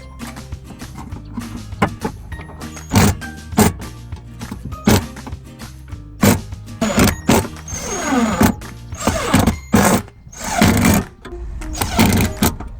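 Mounting plate for an air conditioner indoor unit being fastened inside a camper van, with repeated clattering knocks and whirring bursts of a power tool, loud and close, growing busier toward the end.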